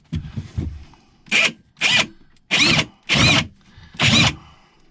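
A power drill whirs in five short bursts of about half a second each, close and loud, after some low rumbling handling noise, while cutting into the wooden hull of a Tahiti gaff cutter boat.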